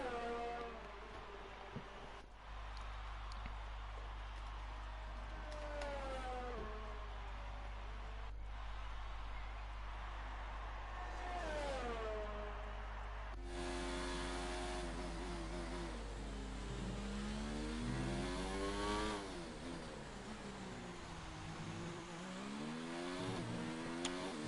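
F1 car in F1 2019 at the Mexican Grand Prix, engine whine rising and falling through the final corner with shifts and a sharp high-revving burst partway through, moderately loud under a constant low hum, no talk.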